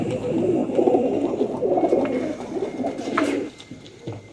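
Pigeons coo repeatedly in soft, low rolling calls close by, with a faint rustle and a brief higher chirp near the end.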